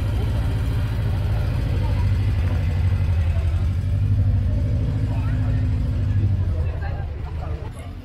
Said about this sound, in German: So, das Auto fährt von mir weg.